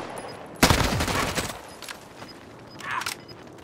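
Burst of rapid gunfire in a battle royale shooter, a loud close fusillade of overlapping shots followed by a few fainter scattered shots and a distant pop.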